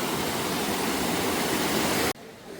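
A roaring waterfall near Mamalakandam on a bus trip to Munnar gives a dense, steady rush of falling water that cuts off abruptly near the end.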